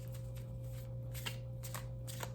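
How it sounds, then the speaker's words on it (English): A deck of oracle cards being shuffled by hand, quick riffling bursts repeating over a quiet steady hum, close and soft. "They shuffle really well."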